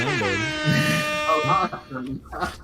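A blaring air horn sound effect from a soundboard with layered honking tones opens, followed by a voice talking over the end.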